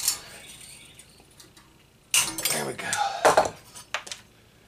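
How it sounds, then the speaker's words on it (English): Metal grate bars being cut with hand snips for a brake drum forge: quiet light ticks at first, then several sharp metallic snips and clinks in irregular bursts, close by. "Snip away at the bars here."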